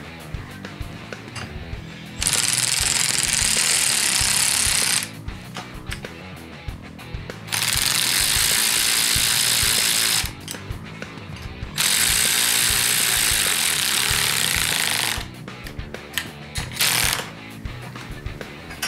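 A ratchet wrench tightens exhaust bolts on a CFMoto ZForce 1000 side-by-side during an Attitude Industries Punch It exhaust install, giving three long bursts of rapid, close metallic clicking separated by quieter handling noises.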